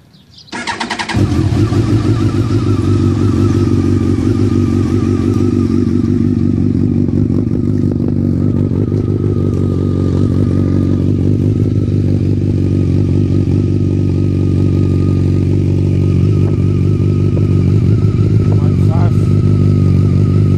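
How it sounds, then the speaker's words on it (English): A 2001 Kawasaki ZX-12R motorcycle cranks briefly and fires up, then settles into a loud, steady, rumbling idle close by that keeps running for the rest of the clip. "Bike starts right up."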